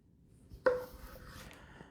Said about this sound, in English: we'll go ahead and grab this one and we'll cut it in half